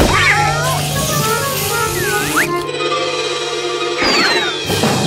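A cat meowing in a children's cartoon detective adventure, drawn-out meows over music and sound effects, with voices in the scene.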